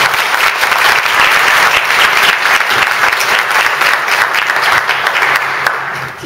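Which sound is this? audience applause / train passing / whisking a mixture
audience applause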